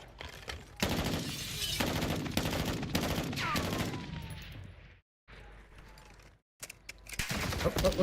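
Gunfire in the shooter game Black Ops 6, a sustained run of close, sharp shots over several seconds that fades, cuts out briefly, then resumes near the end, with occasional talk mixed in.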